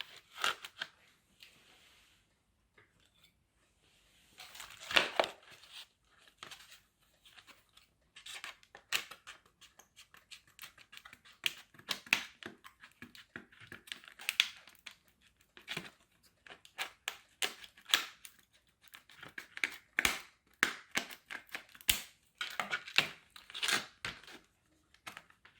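A LIDL battery pack casing being cut open, heard as quiet, irregular snipping, cracking and crunching bursts of plastic, close by and without talk, growing busier toward the end.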